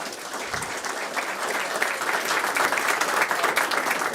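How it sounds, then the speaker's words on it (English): Sustained applause from a council meeting audience welcoming new committee members, a dense, steady wash of many hands clapping at moderate volume, continuing evenly throughout without speech. "let's give them all a huge round of applause"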